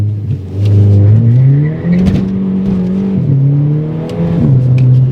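A Mk5 Golf GTI engine held on launch control, revving up and hovering at a steady high drone with small rises and dips, loud and close with no talk.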